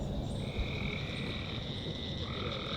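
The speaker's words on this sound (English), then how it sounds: "the bird songs of the day slowly shifted to the throaty frog calls of the night" A throaty chorus of frogs calls at night in a forest arboretum in Claremont, a steady layered croaking bed with thin high trills running continuously throughout.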